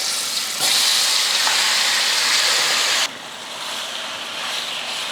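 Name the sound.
marinated chicken frying in oil in a kadai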